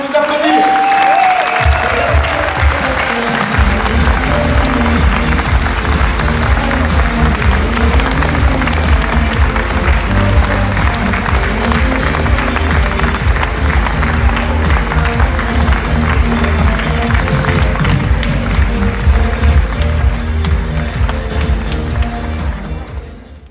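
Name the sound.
audience applause at a political congress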